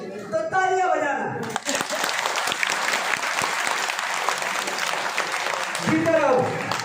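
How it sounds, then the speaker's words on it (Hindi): An audience at a spiritual discourse breaks into loud, sustained applause, dense clapping filling several seconds, framed by a voice speaking before and after. "तो तालियां बजाना।"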